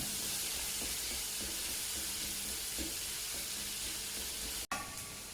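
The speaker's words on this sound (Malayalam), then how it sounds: "പച്ചമുളക് ചേർത്ത് നല്ല രീതിയിൽ വഴറ്റിയെടുക്കുന്നുണ്ട്." Green chillies sautéing in a pan for a homestyle clam dish, a steady close sizzle and hiss with faint stirring knocks and a brief clatter near the end.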